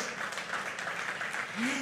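At a Sunday church service, the congregation applauds in a continuous, even patter of many hands, with a short low vocal sound near the end.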